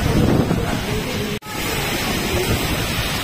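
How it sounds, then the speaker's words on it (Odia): Strong storm wind roars across a rural spot in Nuapur during a heavy storm. It sounds as a loud, continuous broadband rush buffeting the microphone, with one brief dropout partway through. "ପ୍ରବଳ ବାତ୍ୟା, ପ୍ରବଳ ବାତ୍ୟା ନୂଆପୁରରେ"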